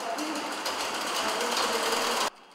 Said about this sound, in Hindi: ये नन्ही उंगलियां सिलाई मशीन पर कपड़ा ही नहीं सिल रही